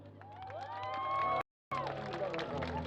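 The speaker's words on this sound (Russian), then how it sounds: "ваши аплодисменты, друзья, за первую участницу Марину" A crowd at an outdoor bicycle carnival applauds and cheers for the first participant, a moderately loud wash of clapping and voices, broken by a brief dropout midway, with a voice rising above the crowd.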